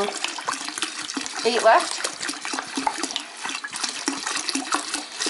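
Water runs steadily into a carboy being filled with about 23 liters for home-brewed beer, a continuous broadband splash with a brief louder surge partway through, while a voice speaks over it.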